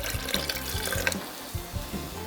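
Water running and splashing into a pot holding a cooked roux for a Cajun chicken fricassee, a short bubbling, gurgling pour heard close up.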